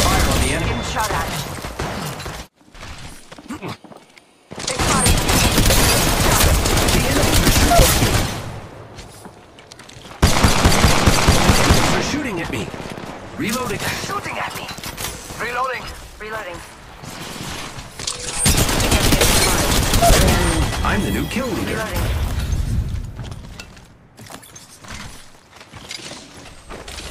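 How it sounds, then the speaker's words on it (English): Rapid bursts of gunfire in Apex Legends Mobile crash in several loud volleys separated by brief lulls, with a voice speaking between and under the shots. "Fire on the enemy. Getting shot at."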